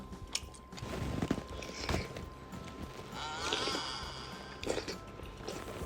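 Chewing on grilled squid packed with eggs, soft and tender, with close, moist crunching bites at irregular intervals and a few sharper bite clicks.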